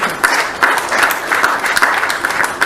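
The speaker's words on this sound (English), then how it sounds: "I want to request you to clap for this special occasion." Steady, close audience clapping at a sports sponsorship event. Many hands beat in a dense, even patter for a few seconds, with no voices on top.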